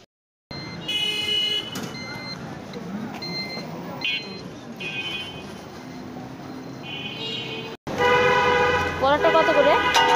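Busy street traffic while crossing the road: car horns toot and honk repeatedly over a steady roar of passing vehicles, close and loud, with people's voices mixed in.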